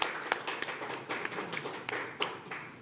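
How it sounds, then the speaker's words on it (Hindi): Applause for an honoree at the Dadasaheb Phalke Icon Award show, with scattered clapping coming in irregular bursts from a crowd, fairly quiet and diffuse over nearly three seconds. "तालियां हो जाए उनके लिए।"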